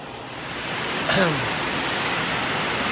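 Steady heavy rain hisses continuously, with a brief faint chirp partway through.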